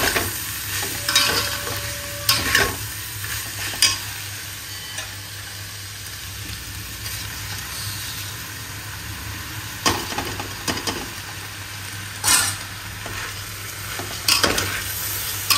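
Rice, sugar and water stirred in a cooking pot, with sporadic close scraping and clinking strokes of a spoon over a low steady sizzle.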